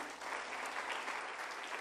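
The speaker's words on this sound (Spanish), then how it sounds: "¿Le puedes dar un fuerte aplauso al Señor Jesús?" Applause from a church congregation honoring Jesus, a dense, steady wash of clapping filling the room without pause for the whole short stretch.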